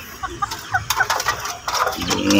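Several chickens cluck close by in quick, overlapping bursts, with scratchy farmyard noise building toward the end.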